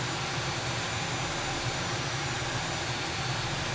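An A-10C Thunderbolt II jet engine in Microsoft Flight Simulator 2020 spools up toward 60%, a steady, loud, dense roar with a low rumbling drone that holds constant throughout, alone with no talk.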